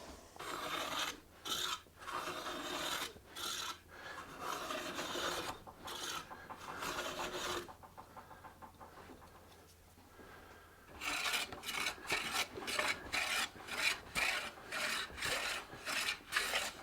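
Rasping, filing strokes on the wooden top of a guitar body during cleanup after clamps come off, in steady rhythmic bursts, a quieter stretch in the middle, then quicker repeated strokes, close and alone.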